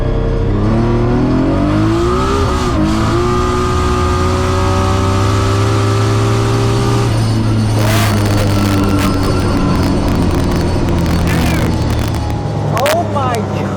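A 1,200+ hp Nissan 300ZX street car pulls hard from 60 to 130 mph, its engine droning loud and steady with rising harmonics and wind roar, a brief shift or spin around the middle, and excited voices over it.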